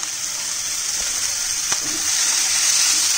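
Small cubed chicken pieces hit frying onions in a pan, giving a loud, steady close sizzle with a brief clatter partway through and no talking.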